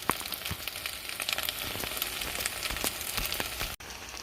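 Rice with longaniza sizzles in a pot over low heat while being stirred, a steady crackling fry with scattered sharp pops and the soft scrape of a spoon, close and moderately loud.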